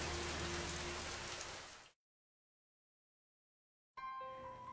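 Rain sound effect in a preschool Bible story, a steady hiss of falling rain that fades out to silence, then a new tonal sound begins.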